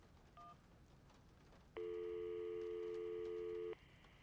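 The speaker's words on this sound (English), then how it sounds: "that's when we pull out our phone, call the office" A phone call to the office in the Syberia video game: a short dial beep, then a steady loud ringback or dial tone held for about two seconds before cutting off, with no voices.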